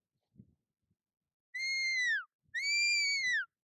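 Two long, rising-then-falling shrill whistle blasts give a sheepdog herding command, clear and loud, with a few faint soft thuds between them.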